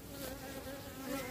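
A swarm of honeybees drones around a hive in a continuous, dense buzz that rises and falls slightly in intensity. It is fairly soft and steady, with no voices.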